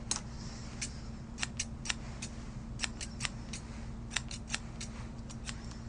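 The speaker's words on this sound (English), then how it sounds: "go with your thinning shears, 2 swipes, pull." Thinning shears snip a Schnauzer's coat in quick pairs of crisp, close clicks, repeated rhythmically over a steady low hum.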